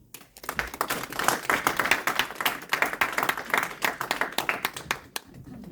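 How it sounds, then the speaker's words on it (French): Church congregation clapping during a French-language worship service, many hands striking in a loud, busy, slightly irregular patter that holds steady for several seconds before stopping abruptly. "Acclamons la parole de Dieu."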